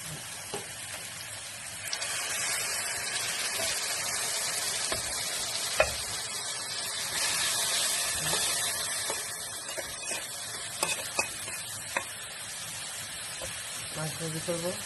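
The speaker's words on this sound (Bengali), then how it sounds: "আর এদিকে আমি মাছ ভাজি করবো" Fish frying in a pan makes a continuous close sizzle with clinks and scrapes of stirring, while a voice talks intermittently over it.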